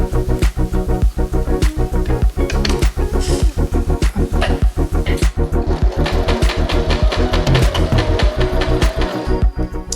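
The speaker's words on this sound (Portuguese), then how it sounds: "de vez em quando deem uma ajudadinha na máquina de costura, porque como o tecido é grosso, às vezes ela quer emperrar um pouquinho" Sewing machine stitching thick fabric for handmade espadrilles, running steadily and loudly with a fast, even mechanical rhythm of needle strikes throughout, close up.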